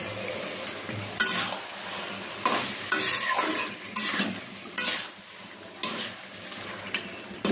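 Mutton with its fat is stir-fried for a curry before going into a pressure cooker: a spatula scrapes the pan in repeated rhythmic strokes over a low, steady sizzle, close and with no talking.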